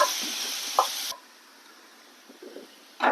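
Sliced onions dropped into hot oil with ginger-garlic paste for egg curry give a close, bright sizzle for about a second, which then fades to a quiet pan with a few soft knocks before another brief hiss.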